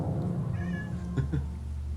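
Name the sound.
cat meowing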